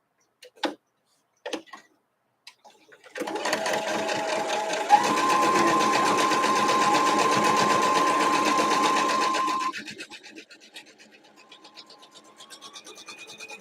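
A domestic sewing machine chain piecing a quilt flimsy runs in a steady, close whirring burst of about six seconds, preceded by a few sharp clicks and followed by quieter mechanical ticking.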